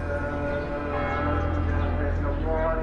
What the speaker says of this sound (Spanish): solo el sonido de las campanas y de los almohacines revelan al viajero las numerosas iglesias y mezquitas